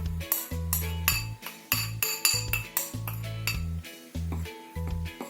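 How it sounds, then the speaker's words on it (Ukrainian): A utensil mixes flour with salt and pepper in a bowl, giving repeated close, bright clinks and scrapes against the dish in an uneven, steady rhythm, with no talking. "Все гарно перемішую."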